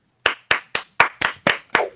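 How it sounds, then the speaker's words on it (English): Seven sharp, evenly spaced claps, close and loud with short gaps between them, from a comedian's virtual stand-up showcase as the next act is introduced; no talking. "So we'll introduce Fred, and please clap."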